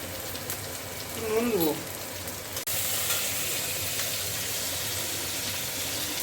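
Sliced onions fry with a little sugar in a hot pan for caramelising, giving a dense continuous sizzle that jumps louder partway through, with a brief voice-like sound early on.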